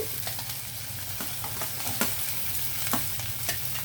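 Potato, carrot and onion fry with ginger-garlic paste in a pan, giving a steady close sizzle broken by scraping stirs and faint clinks, with no talking.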